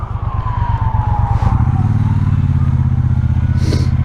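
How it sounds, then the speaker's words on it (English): A police siren wails faintly in the distance as it passes, its falling tone riding over the loud, steady rumble of a Triumph Speedmaster motorcycle engine close by. "I can hear police."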